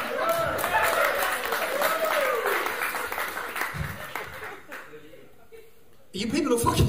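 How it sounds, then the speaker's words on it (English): Audience applause at a live stand-up comedy show, sustained clapping that fades out over several seconds, followed by a brief pause and a burst of renewed noise near the end. "You people will fucking clap at anything"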